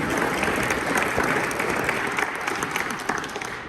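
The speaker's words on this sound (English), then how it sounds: "So a round of applause for her leadership and dedication." An audience at a college library ribbon-cutting ceremony applauds, a full, steady round of clapping that carries on evenly without speech.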